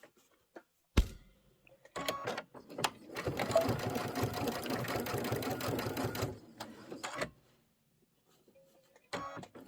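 Sewing machine joining Kimberbell Spring Showers quilt blocks in pairs, a single steady run of about three seconds, moderately loud and close, framed by a few handling clicks and quiet pauses.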